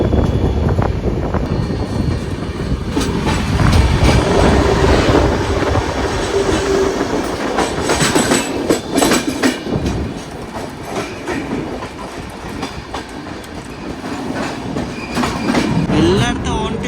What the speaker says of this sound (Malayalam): റാണി കമലാപതി നിസാമുദ്ദീൻ വന്ദേ ഭാരതാണ് ഇപ്പോൾ പോയത്.